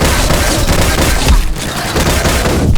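Rapid automatic gunfire in the FPS game Line of Sight, dense sustained bursts of shots loud and close, barely pausing across the stretch.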